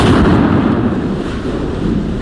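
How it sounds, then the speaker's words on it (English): A blast from a military explosion test roars as a loud, dense, sustained rumble with no distinct onset or pauses. "This film of a military test shows what happens during an explosion."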